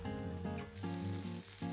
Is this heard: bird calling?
no